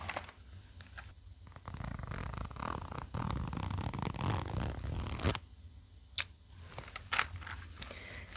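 Close-up rustling and scratchy friction sounds, a pencil case zipper being drawn open in uneven pulls with crinkly handling noise and a few sharp clicks.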